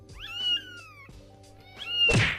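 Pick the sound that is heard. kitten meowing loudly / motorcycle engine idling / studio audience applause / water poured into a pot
kitten meowing loudly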